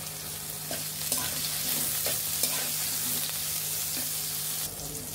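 Eggplant pieces fry in a pan with salt, chili powder and turmeric powder, giving a steady close sizzle with occasional scraping stirs and no talking.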